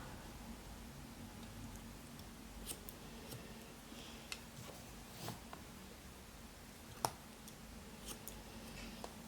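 Scissors snip hair during a haircut for a plunging bob, a few faint, sparse clicks spread over a quiet background.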